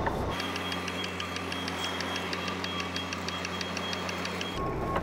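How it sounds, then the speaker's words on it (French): A North American truck gives off a rapid, regular cricket-like chirping from its plastic parts, a steady high pulsing over a low engine rumble that runs for several seconds and then cuts off. "Pourquoi il fait un bruit de criquet mon camion? C'est des plastiques."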